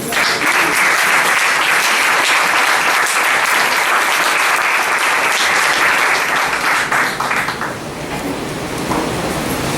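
Loud, sustained applause fills a Spanish-language church service as the congregation claps for the Lord, a dense roaring wash of many hands that holds steady for nearly ten seconds and thins slightly near the end.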